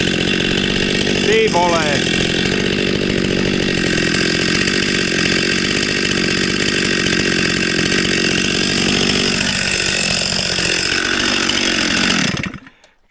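A STIHL MS 261 C-M chainsaw runs with a steady, loud, buzzing engine drone that shifts pitch briefly before cutting out abruptly at the end. Someone shouts a short exclamation over it.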